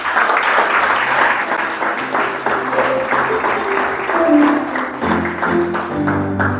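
A church congregation claps in sustained applause for several seconds, dense and close, with some voices mixed in.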